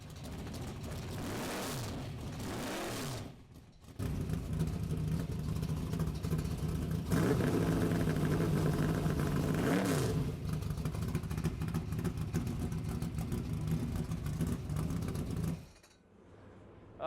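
A dirt track race car's engine runs loud and steady, its revs swelling and easing over a sustained roar before cutting back near the end, with no talking.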